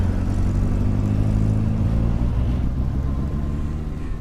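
A car driving and turning onto a dirt road, a loud, close, continuous engine rumble that eases slightly toward the end.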